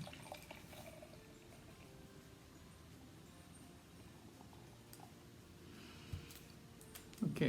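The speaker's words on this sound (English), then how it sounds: "let's pour this one out" Beer pours from a bottle into a glass: a low, steady liquid gurgle and fizz running throughout, fairly quiet, with a louder splash near the end.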